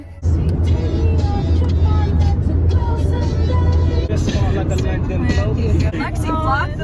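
A car being driven to the beach at Ocean City, its engine and road rumble droning steadily and close from inside the cabin while girls chatter and laugh over it.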